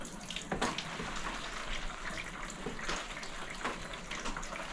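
Rainwater patters and splashes steadily down through the roof panels of a vinyl pergola. The sound is a close, continuous wash of drips and spatter with no voices.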